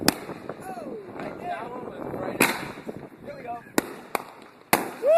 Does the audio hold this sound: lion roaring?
no